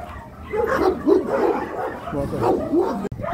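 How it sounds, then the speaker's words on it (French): Dogs at a kennel bark and yip in a steady, overlapping chorus that sounds moderately distant, heard from a dirt path with faint background noise. "Et les chiens que vous entendez, bah, c'est un chenil."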